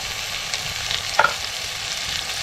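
Vegetables, likely eggplant, stir-fried with homemade red masala, turmeric and garam masala, sizzling steadily in a home kitchen pan, with a few brief scraping stirs around the middle.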